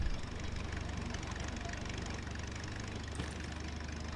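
A car engine idles in the video game Titan Chaser, a steady low rumble with a faint knocking pulse, running continuously at an even level with no other sounds.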